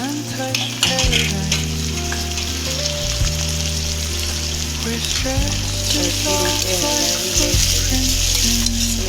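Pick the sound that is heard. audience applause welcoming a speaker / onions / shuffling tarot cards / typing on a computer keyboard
onions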